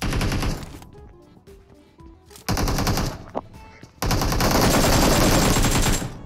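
Loud bursts of rapid automatic gunfire in PUBG Mobile, in several volleys separated by quieter gaps with scattered single shots.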